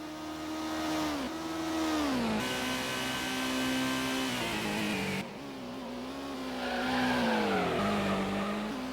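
Race car engine in the PlayStation game Gran Turismo, a loud buzzing tone that dips and climbs through gear changes and braking into a tight left hairpin, with tire squeal sliding over it near the end.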